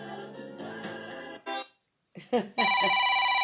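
A telephone rings in short electronic bursts that cut off into silence before a louder ringtone-like tone sounds again, close and clear with no voices over it.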